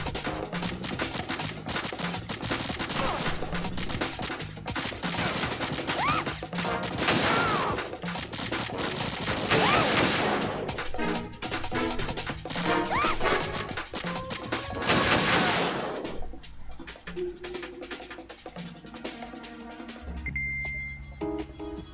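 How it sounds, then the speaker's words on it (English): PSG-1 sniper rifle fire in the Metal Gear Solid game comes as dense, loud shots crowding together for about fifteen seconds before giving way to quieter tonal game music. "I'm going to show you how sniping should be handled."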